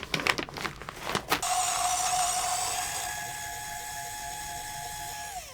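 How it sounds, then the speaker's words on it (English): Electric coffee grinder grinding the last bit of coffee beans: a few clunks, then a steady high whining motor drone that slowly drops in pitch and winds down. "There are still some ground coffee, and the grinder seems to suffer to push the final 1 gram"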